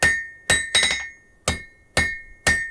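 A blacksmith's hammer strikes hot metal on an anvil, drawing the end of a piece to a point: six sharp, ringing blows spaced roughly half a second apart, each with a bright metallic ring that decays quickly, close and loud.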